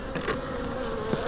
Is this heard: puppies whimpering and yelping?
no